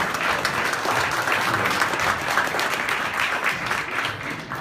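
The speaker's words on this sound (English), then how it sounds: "Round of applause for the organizers." Steady, full applause from an audience at a community story slam, sustained clapping without a break for several seconds and tapering slightly at the end.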